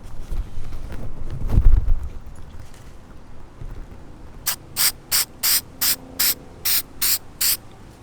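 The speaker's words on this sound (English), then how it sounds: "Now I'm going to use some of this rust reformer, and this just sprays on here like this." Rust reformer spray hisses onto the metal body of a van in a series of about nine short, evenly spaced bursts, loud and close, following a stretch of low rumbling handling noise.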